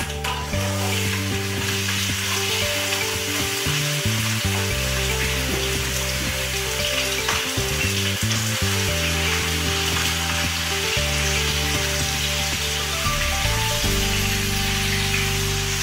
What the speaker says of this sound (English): The oil is ready to go. Let's cook some lamb.